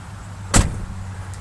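A single 1989 Mercury Grand Marquis door shuts with one solid thud on new striker bushings, close by, followed by quiet background hum.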